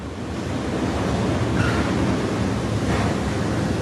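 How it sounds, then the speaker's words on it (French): Violent storm wind on Mayotte, a loud, dense, continuous roar that blasts steadily and close, with no voices. "une femme seule, effrayée par le fracas assourdissant du vent"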